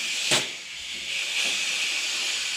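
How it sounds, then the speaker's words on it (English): Air hisses steadily from an air nozzle while a tire is being inflated, a bright continuous leak heard up close with a brief sharp burst near the start. "A little bit of an air leak."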